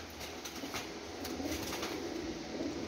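Paired pigeons coo softly amid a faint, hissy background, with low repeated calls and occasional rustling, no voices.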